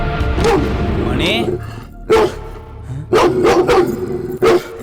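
A dog barks in several short, loud bursts, with people talking under and between the barks in an indoor film scene.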